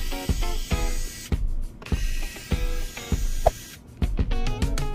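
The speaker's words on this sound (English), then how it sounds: "First step, loose screws and remove bottom cover." Screws loosened and a bottom cover pried off a dead, non-powering laptop during repair, giving repeated sharp clicks, scrapes and short hissing ratchet-like bursts in an irregular rhythm, close and fairly loud, with no talking.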